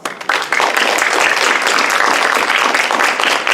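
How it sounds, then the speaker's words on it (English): An audience at a League of Women Voters candidate forum in Illinois applauds, a dense, steady wash of many hands clapping that starts abruptly and holds evenly at full strength for several seconds. "give them a round of applause"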